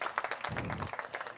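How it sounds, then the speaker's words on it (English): A conference audience at a regional One Health gathering for Eastern and Southern Africa gives a short burst of applause for a speaker, dense, quick clapping lasting just over a second. "Dr. Kaufman, a round of applause for her"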